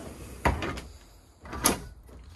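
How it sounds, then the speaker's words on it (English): A bedroom pocket door in a 2021 Thor Magnitude XG32 4x4 motorhome slides with two close rumbling, scraping strokes about a second apart, quiet between them. "There is a pocket door at the bedroom to make it more private."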